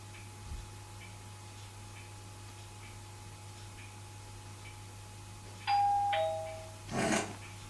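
A phone ringtone that sounds like a doorbell gives a clear two-tone ding-dong chime, fairly close, after a long stretch of quiet room hum with faint ticking, then a brief rustle follows.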